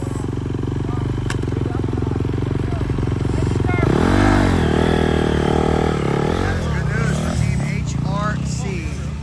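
A dirt bike engine revs hard during a silencer sound check at a motocross event, holding a loud, steady roar and then climbing in sharp throttle blips. People talk over the engine.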